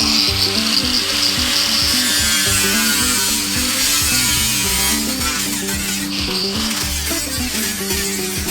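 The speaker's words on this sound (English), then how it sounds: "I'm gonna have to get out the hand grinder and cut these things with a cutoff wheel." A hand grinder with a cutoff wheel slices through metal sheets while building a movable goat shelter on a farm, a loud, steady abrasive grinding rasp running continuously close by with no speech.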